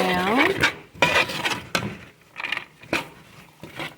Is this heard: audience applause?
no